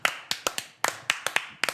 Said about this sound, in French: J'ai pas entendu, j'étais en train d'applaudir